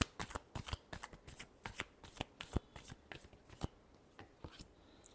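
Tarot cards are shuffled close up in a quick series of soft riffling flicks and slaps that repeat steadily for several seconds.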